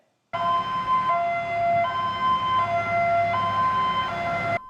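A loud, close fire engine siren wails in a steady two-tone pattern, alternating high and low pitches for several seconds before cutting off abruptly.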